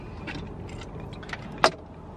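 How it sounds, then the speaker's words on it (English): A single jangling clatter of Toyota A90 Supra keys hitting a surface, brief and metallic, with faint background noise. "Drop the keys."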